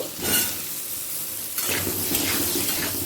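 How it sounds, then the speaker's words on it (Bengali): Eight potato pieces frying in oil for a chicken curry, a continuous close sizzle with bursts of bubbling and spattering and no voices. "আলুটাকে হালকা লাল করে ভেজে তুলে নেব"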